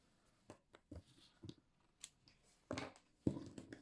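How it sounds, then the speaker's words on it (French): Scissors cut crochet yarn in a few sharp, close snips spread over a few seconds, with louder crunchy cuts near the end, quiet otherwise. "Maintenant, je vais couper le fil."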